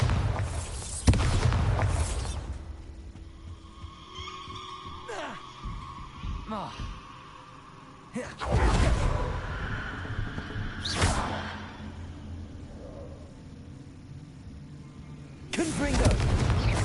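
Bombarda blasting spell explosions in the video game Hogwarts Legacy: several loud, sharp booms at intervals, each decaying into rumble, with gasping voices and battle effects between them.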